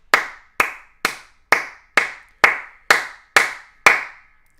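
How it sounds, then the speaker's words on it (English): Rhythmic audience clapping at a hip-hop dance battle, nine crisp, evenly timed claps at roughly two per second, close and loud against a quiet background. "Clap some more,"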